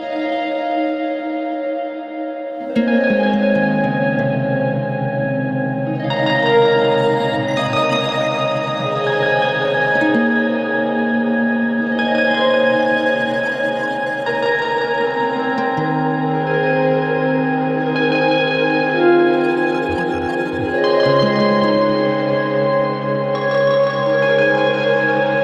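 Guitar run through octave, swell and glitch effect pedals at once, playing sustained, layered chords with a deep octave-down bass line, shimmering echoes and reverb tails, loud and continuous with no talking.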